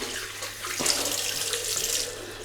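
Water runs steadily from a bathroom tap into a sink for a couple of seconds, a close, continuous splashing hiss with a brief surge partway through.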